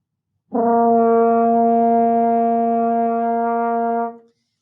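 A single sustained brass note from a French horn, steady and full, held for about three and a half seconds before fading out.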